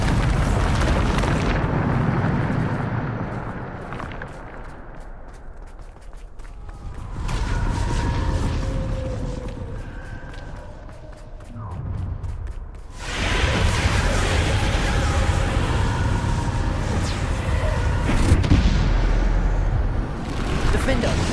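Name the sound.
Bombarda spell explosions from the video game Hogwarts Legacy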